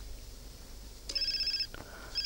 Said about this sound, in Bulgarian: Телефона ми звъни.